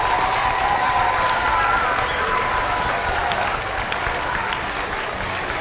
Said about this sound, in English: We would like to give a big round of applause for Mr. Calavita